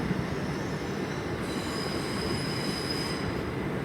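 Class 387 electric trains at London Paddington station on a Didcot Parkway service: a steady, loud rolling rumble with a thin, high wheel squeal that rises partway through, no voices.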